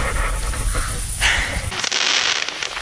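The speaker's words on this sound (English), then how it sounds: "Fireworks going on." Distant popping and crackling bursts of fireworks, a few sharp bangs amid a busy, noisy outdoor background.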